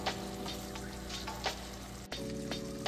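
Soaked jaggery hitting a hot pan while cooking moringa chutney, giving a steady close sizzle and frying crackle with a few louder bursts and a brief dip partway through.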